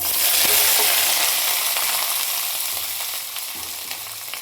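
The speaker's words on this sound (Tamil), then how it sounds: "இப்போ நல்லா வதக்கிக்கலாம். நல்லா பொன்னிறம் ஆகிற வரைக்கும் இதை வதக்கணும்." Sliced shallots, onions and green chilies sauté in hot oil for a chicken gravy, a steady close sizzle and crackle with occasional stirring scrapes, no talking.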